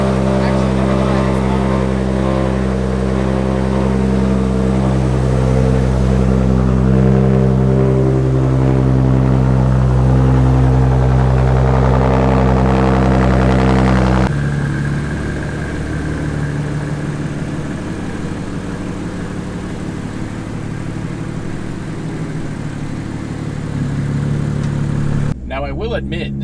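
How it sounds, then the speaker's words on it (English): An Audi S4 fitted with test pipes in place of its catalytic converters runs loud and close, a deep steady idle drone that shifts to a rougher, raspier tone midway, holding continuous until a sudden cut near the end. "Let's see how much louder this thing is now with test pipes."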